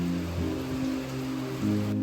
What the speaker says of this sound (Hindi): इधर अभी बारिश बहुत तेज हो रही है